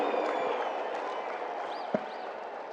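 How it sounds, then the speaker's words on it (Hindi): A large crowd applauds steadily to welcome Prime Minister Narendra Modi at a Golden Jubilee celebration in Ahmedabad, the dense clapping loud and continuous throughout with no break. "आइए जोरदार तालियों के साथ आमंत्रित करते हैं"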